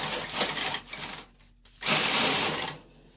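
A Brother KH-900 electronic knitting machine carriage swept across a row in stockinette stitch, two bursts of clattering, whirring mechanical noise split by a brief pause, close and fairly loud with no talk.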